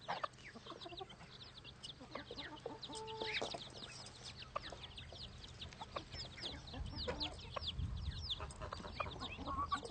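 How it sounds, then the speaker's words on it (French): Soft clucking from a bantam hen mixes with a flurry of high, rapid peeping from her chicks, all close by over a low background hum. "Celle-ci est une poule naine dont les poussins ont un duvet tacheté."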